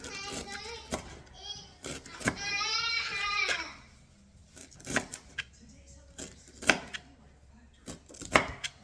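Knife chopping ginger into small pieces on a board, sharp irregular chops close by, with a brief tonal, voice-like sound partway through and quieter gaps between cuts.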